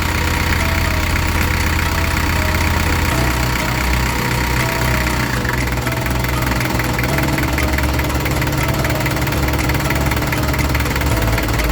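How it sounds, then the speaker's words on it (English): A diesel engine idles steadily after its injection pump has been adjusted, a loud, continuous, close rattling drone with a slight knock and vibration throughout. "test the engine thoroughly to observe how it is running"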